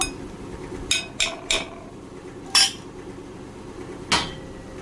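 A utensil knocks against a pot while chhana, milk and sugar are mixed together, giving a few sharp metallic clinks and taps at irregular intervals over a quiet background.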